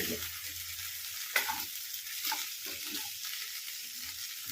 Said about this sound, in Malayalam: എണ്ണ ഒഴിച്ച് ഇതിനൊന്ന് മൂപ്പിച്ചെടുക്കാം